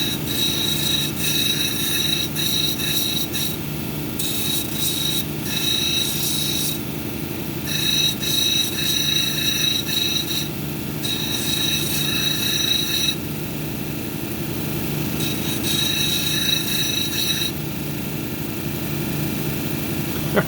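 A hematite cabochon is ground and domed on a 220 grit wheel, giving a continuous rasping grind. The pitch and pressure shift in bursts as the stone is worked, with the motor hum running underneath and no voices.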